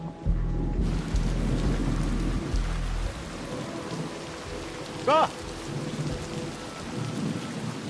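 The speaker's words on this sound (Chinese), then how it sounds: "这大下雨天了" Heavy rain pours in a dense, steady hiss while low thunder rumbles loudly through the first few seconds. Someone briefly speaks partway through.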